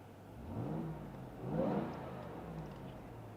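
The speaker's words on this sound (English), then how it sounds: "Let's give her a little gas here and see how she sounds." Engine of a 2021 Ram TRX Launch Edition truck revving briefly twice, a muffled mid-pitched rise and fall heard from inside the cab, fairly quiet.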